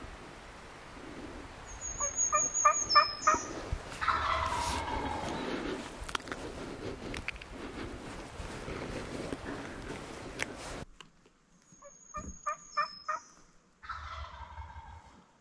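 A wild spring turkey in a Pennsylvania state forest gobbles in repeated rattling bursts, the first calls fairly close and loud over outdoor ambience, then a quieter gobble after a pause.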